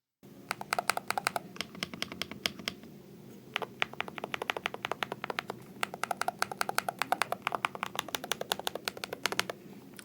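Rapid typing on a Hator Skyfall 80 MAG Ultima 8K wireless magnetic-switch keyboard, a dense stream of crisp, close keystroke clicks with a brief pause partway through.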